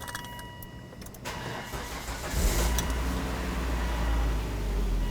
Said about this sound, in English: now, let's go ahead and start the engine